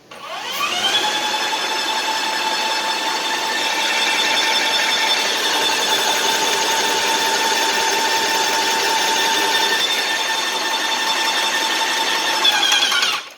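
A Graco 650 airless paint sprayer runs continuously and loudly, a steady high-pitched whining motor drone building pressure, starting abruptly and cutting off at the end with no talk.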